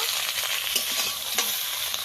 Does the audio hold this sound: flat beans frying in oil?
yes